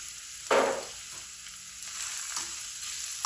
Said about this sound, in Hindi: इनको थोड़ा सा फ्राई कर लेते हैं।